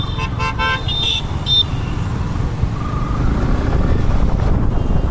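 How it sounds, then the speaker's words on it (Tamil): Road traffic in congestion around a Yamaha R15 V4 motorcycle, a low engine and wind rumble close by, with a few short car horn toots near the start. "சரியான டிராஃபிக் மாட்டிக்கிச்சு"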